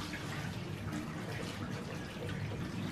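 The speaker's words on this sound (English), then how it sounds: "Now you're going to turn on the cold water, and it's going to rinse through the hot water and cool it down a little bit." Cold tap water runs steadily through a Safeguard pasteurizer to rinse and cool hot water around goat's milk, a continuous close rushing flow with no pauses.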